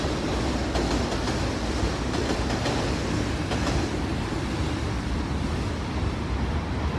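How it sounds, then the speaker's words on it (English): A subway train rumbles loudly and steadily, with continuous wheel and track noise and faint clattering throughout. "Oh my gosh, subway is loud."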